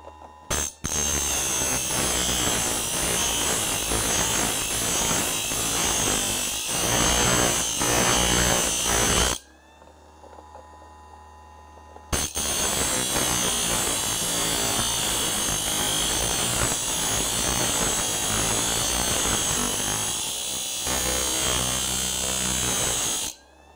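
A drill bit sharpener grinding a blunt drill bit, a loud, harsh, continuous whirring grind that breaks off for a few seconds midway, then starts again and runs steadily to the end.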